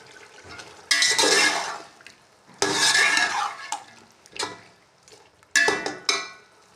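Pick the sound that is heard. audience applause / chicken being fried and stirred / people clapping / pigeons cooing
chicken being fried and stirred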